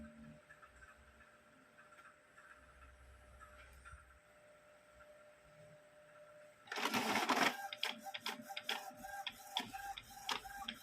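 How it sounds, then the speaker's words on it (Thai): An Epson inkjet printer with a newly replaced print-head belt starts printing after a quiet stretch, loud rhythmic mechanical clatter and whirring of the carriage and paper feed close by. "เดี๋ยวเราจะลองปิ้นดูนะครับว่า มันจะใช้ได้ไหมนะครับผม"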